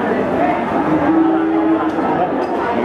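A PO cow moos once in a long, steady low call amid the busy background hubbub of the crowded Wirosari cattle market in Grobogan, Central Java.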